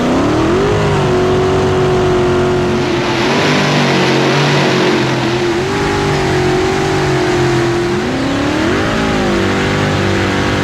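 A race car engine revs loudly and close by, climbing and falling in pitch through several throttle blips over a steady growl, with no talking.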